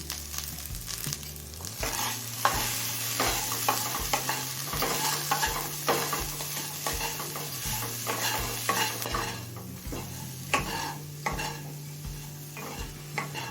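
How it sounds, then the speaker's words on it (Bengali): Vegetables fry in a pan with salt, grated ginger, turmeric and Kashmiri chili powder for an oats pulao. A steady sizzle runs under repeated rhythmic scraping strokes of a spoon stirring the pan, close and fairly loud. "নুন আর মশলাটা সমস্ত সবজির সাথে মিশিয়ে নিয়ে মিনিট তিন চারেক ভেজে নিয়েছি"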